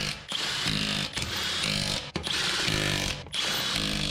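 A power tool runs down car wheel lug nuts in four steady, loud buzzing bursts, each ending with a brief cut-off before the next nut, close up and with no talk.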